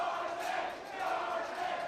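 Wrestling arena crowd cheering and shouting in a sustained roar that dips briefly and then swells again, with no clear voice standing out.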